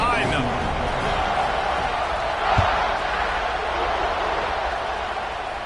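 A football stadium crowd at kickoff makes a broad, steady roar, with a thump midway, while a commentator talks over the noise throughout.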